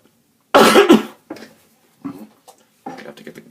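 Several coughs close to the listener: a loud harsh burst, then a few smaller, rougher coughs and throat clears separated by brief silences.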